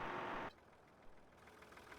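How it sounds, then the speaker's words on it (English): After a short loud burst, a farm tractor's engine idles quietly in Farming Simulator 2013, a faint, low, steady rumble left running on its own. "Someone left the tractor running."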